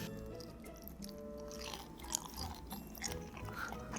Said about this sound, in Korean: 소리가 난다 바삭한 느낌이 있어요